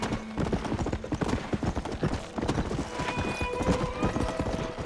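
A horse gallops in Red Dead Redemption, rapid rhythmic hoofbeats pounding close and loud throughout, with faint tonal game sounds in the background and no talking.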